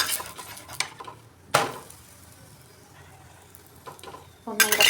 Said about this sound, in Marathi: गॅस मिडियमवर गॅसवरच आपल्याला भाजून घ्यायचं आहे